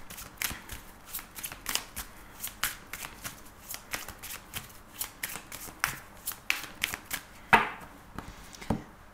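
A deck of tarot cards is shuffled by hand in a string of crisp riffling bursts and soft taps, close and quiet, with no one speaking.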